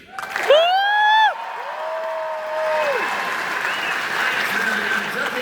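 An audience at a Jeff Dunham comedy show in Brisbane breaks into applause, opening with a loud whistle or whoop and then settling into sustained clapping and crowd noise.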